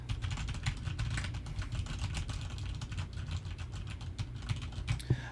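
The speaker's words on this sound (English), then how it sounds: "We'll do a keyboard test to see how that sounds." Typing on a computer keyboard captured by a FIFINE AM8 microphone: rapid, continuous key clicks at a steady pace over a low room hum, close and uninterrupted, with no talk.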